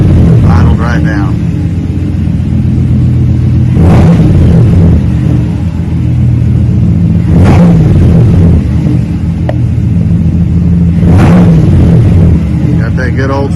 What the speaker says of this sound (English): Got that good old school Flowmaster rumble.